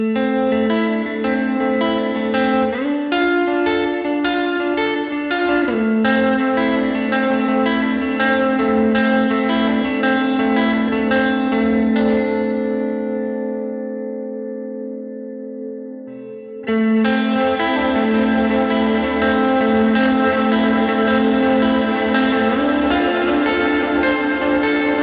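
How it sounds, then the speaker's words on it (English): Guitar played through an EarthQuaker Devices Ledges reverb pedal set to a cathedral-style hall reverb, sustained chords with bright, washing reflections, a long tail decaying to near silence midway before the chords resume. "more of a cathedral style reverb with a lot of bright early reflections that build up faster"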